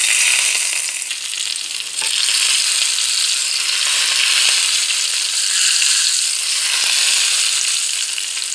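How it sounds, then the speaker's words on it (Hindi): Ghee and cumin seeds sizzle steadily in a hot pan while tempering chana dal in a hotel-style recipe, a loud, continuous crackling fry with no voices. "दाल को तड़का लगाएंगे।"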